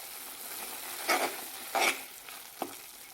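A pan of pineapple halwa mixture cooking down, with a steady low bubbling hiss and two or three louder stirring scrapes plus a small knock, close up and without voices.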